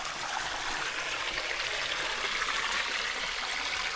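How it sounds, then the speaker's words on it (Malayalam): Water pouring into a tank with transparent sheet sides, built as an infinity pool, makes a steady broadband rushing and trickling noise, close and constant with no pauses or voices. "അപ്പോൾ നമ്മുടെ ടാങ്കിൻ്റെ ഫസ്റ്റ് വെള്ളം നിറ നടന്നുകൊണ്ടിരിക്കുന്നു."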